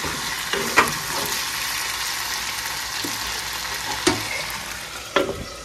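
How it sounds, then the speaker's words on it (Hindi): Potatoes frying in a pan for lunch give a steady broadband sizzle throughout, punctuated by a few sharp clinks of a utensil against the pan; no one speaks. "यहाँ पे आलू फ्राई कर रहा है"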